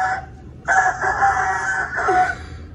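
A rooster crowing, used within a Spanish-language song: a short opening call, then a long, loud, strained cock-a-doodle-doo rising and falling in clear close bursts.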